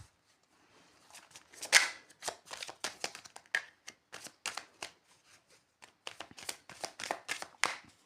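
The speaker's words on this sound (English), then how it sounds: "Let me just shuffle it again." Tarot cards shuffled by hand in a quiet room, a rapid run of crisp riffling flicks and soft slaps arriving in uneven bursts, close and fairly loud with no talking.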